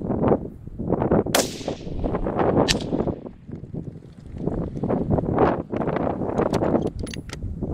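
Ruger Precision rifle in 6mm Creedmoor firing at a 1000-yard range, several sharp reports standing out over steady, heavy wind noise buffeting the microphone.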